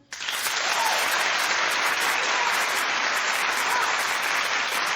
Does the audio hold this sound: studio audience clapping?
yes